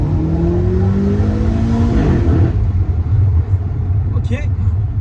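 BMW M8 Competition on the road, its exhaust rumbling low and loud with a rising rev that climbs then drops away into a steady drone, cabin noise throughout.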